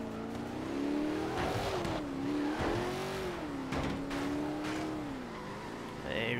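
Car engine in the racing video game Forza Horizon 3, a steady droning hum with a slowly wavering pitch that rises and dips, loud and continuous throughout with faint brief bursts above it.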